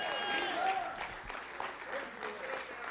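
Church congregation clapping hands together during a worship service, a steady mass of applause that carries on at moderate volume across the room.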